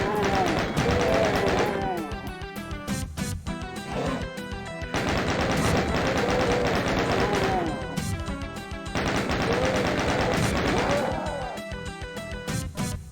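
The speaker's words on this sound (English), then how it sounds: "it's just better to give them a taste of their own chain gun." Rapid chain gun fire in the video game Doom 2, loud dense bursts of repeated shots in three long volleys with brief pauses between, alongside other in-game noises.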